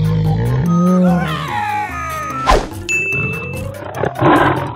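A lion's deep roar rises then falls in loud, close bursts, with a bright ding and a sharp crack among them, and no speech.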